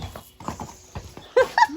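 Horse hooves clip-clop near a stable at a show yard, a run of uneven, close hoof strikes on hard ground, growing sharper and louder toward the end.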